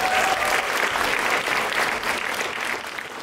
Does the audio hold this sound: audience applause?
yes